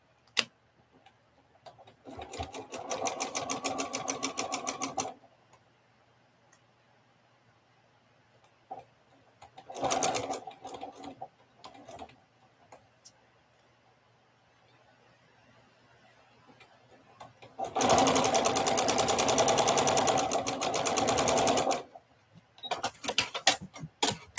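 Sewing machine stitching a quilt block, running in three bursts of rapid mechanical ticking separated by quiet pauses, the last and longest run loud and steady.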